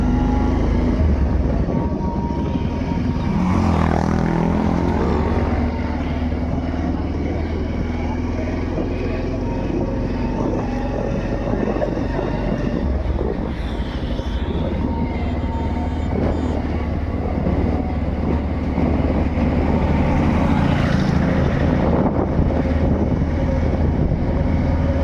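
A motorbike rides along the road toward Chandipur bridge, its engine droning steadily under heavy rushing wind noise, with a rider's voice now and then.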